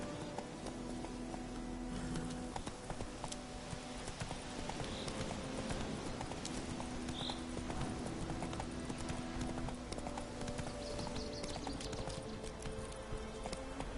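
The horse Roach gallops in a video game, a continuous, even clip-clop of hooves running throughout, fairly close, with ambient game sound beneath.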